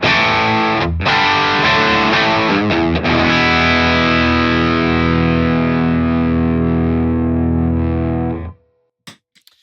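An electric guitar through a Triumph overdrive pedal in punch mode rings out loud and distorted, one chord struck and sustained for several seconds, with a few quick restrikes early on before it cuts off, followed by faint clicks.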